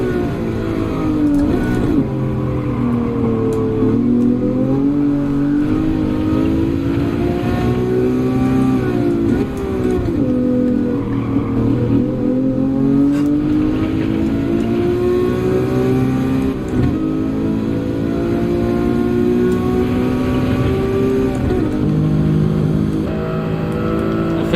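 Lamborghini race car in Gran Turismo, its engine roaring loud and continuous with rising and falling revs as it accelerates and shifts through a race, steady and close throughout.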